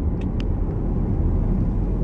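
A vehicle drives along a road with a loud, steady low rumble of engine and tyre noise that runs unbroken throughout, with a couple of faint brief squeaks early on.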